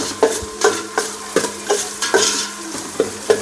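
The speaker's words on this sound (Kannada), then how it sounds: "1 ದಪ್ಪ ಗೆಂಡೆ ಈರುಳ್ಳಿಯನ್ನು ಸಣ್ಣದಾಗಿ ಹೆಚ್ಚಿಕೊಂಡಿದ್ದೀನಿ, ಅದನ್ನು ಸಹ ಹಾಕ್ತಾ ಇದ್ದೀನಿ." Finely chopped large onion fries in hot tempering oil in a home kitchen, with a steady sizzle and a spoon scraping and stirring the pan in regular strokes about every half second, close and alone.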